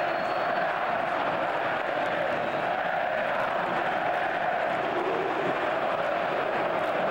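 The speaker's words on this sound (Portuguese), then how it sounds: "vamos ouvir a galera do Corinthians" Corinthians supporters fill a football stadium during a 2010 Brasileiro match against São Paulo, a dense, continuous roar of crowd chanting sustained at steady loudness throughout.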